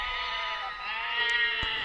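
A flock of sheep bleats in a steady, overlapping chorus of nasal cries, fairly close and continuous, with no voices present.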